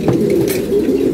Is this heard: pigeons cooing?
yes